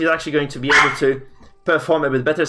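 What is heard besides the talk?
dog barking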